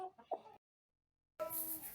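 A small young rooster newly brought among hens at a rural homestead, soft short clucks and fowl calls up close, broken by a silent gap, then more clucking over a hissy background.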